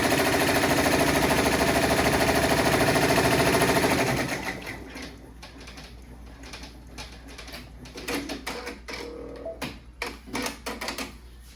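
An in-the-hoop embroidery machine stitching a placement line for a soccer ball coaster, starting with a loud, steady mechanical whir that drops after a few seconds to quieter, irregular clicks and ticks.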